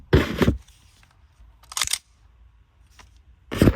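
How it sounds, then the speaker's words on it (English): The cocking mechanism of a KWA VM4 Ronin T6 airsoft rifle is worked in three sharp mechanical bursts, each a quick ratcheting clack, separated by quiet pauses and heard close up without speech. "I'm going to show you the cocking mechanism now, just so that you can see that's all working fine"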